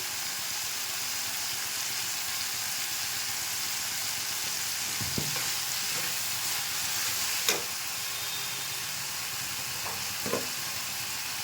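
Maida flour dough balls cook in a pan of spiced masala, making a steady close frying sizzle and hiss, with a few soft knocks and clinks from the pan along the way and no talk.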